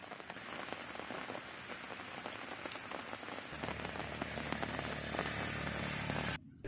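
Steady rain patters and hisses on a surface during a spell of heavy crop-damaging rainfall, fairly soft overall, with a low droning hum joining partway through.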